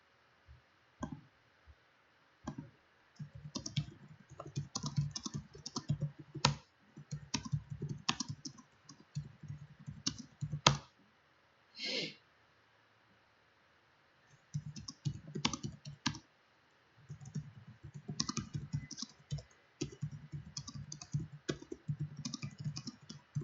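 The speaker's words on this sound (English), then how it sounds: "I'm kind of typing right now because people are having this discussion." Quick bursts of typing on a computer keyboard, dense clattering runs of keystrokes broken by short pauses and a near-silent gap midway, close and fairly loud.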